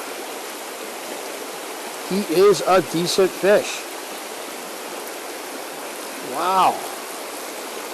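Fast-flowing stream water rushes as a steady broadband wash throughout, with a voice talking briefly over it in a few short bursts.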